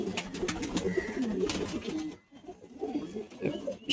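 Close, busy cooing from pigeons fills most of the stretch, breaking off into a brief quiet gap before the rolling calls resume.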